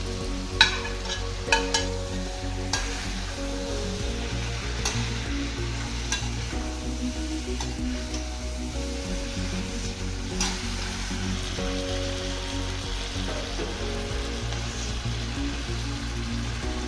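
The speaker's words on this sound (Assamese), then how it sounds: "এয়া মই চিকেনখিনি ঢালি দিছোঁ চিকেনখিনি ফ্ৰাই কৰা চিকেনখিনি ঢালি দিছোঁ" Fried boneless chicken pieces tipped into a hot pan for chilli chicken set off a steady, close sizzle with stirring scrapes and a few sharp clatters, and no one talks.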